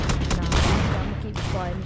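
Rapid gunfire fills a Roblox shooter, Cult of the Cryptids, a dense continuous volley of shots close and loud, with a voice briefly audible over it.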